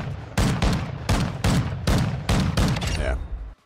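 Shotgun firing in Call of Duty, Tracer Pack Mace bundle: six heavy, booming blasts at a steady pump-action pace, loud and close, with no talking over them.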